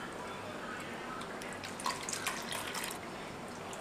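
Peach juice and water trickling and dripping through a strainer, a faint steady liquid patter with a few slightly louder drops, soft and continuous under low room noise.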